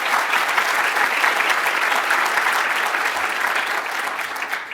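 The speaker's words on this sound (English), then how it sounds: "please give you a round of applause to OCLC for being a platinum sponsor" Steady, moderately loud audience applause at a library technology conference morning session, even and continuous clapping from a large room without pauses.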